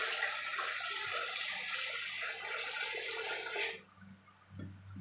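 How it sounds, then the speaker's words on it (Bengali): Water gushes steadily while being poured off kneaded flour dough in a home kitchen, loud and continuous, then cuts off abruptly near the end, leaving faint splashes and drips. "জলটা ফেলে দেবো, দিয়ে আমি আবার জল নেব।"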